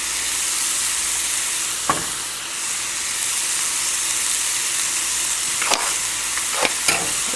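Salted onions sweat gently in a pan with a steady close sizzle and hiss, broken by a few sharp clicks of a utensil, with no speech.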